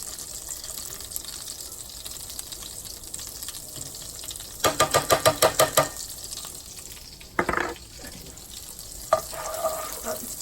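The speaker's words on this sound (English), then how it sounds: "I'm going to put in this minced garlic in the olive oil" Minced garlic sizzles steadily in hot olive oil in a home kitchen pan, a continuous close frying hiss broken by a run of sharp rhythmic clinks near the middle and a few louder scrapes or splashes toward the end.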